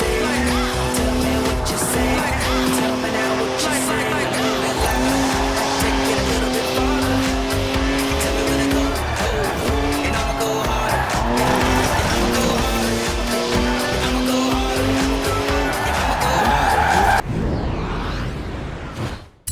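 A BMW in the Forza Horizon racing game revs hard and drifts, its loud sustained engine drone rising and falling through gear changes, with tire squeal and skidding layered over the roar throughout, ending abruptly.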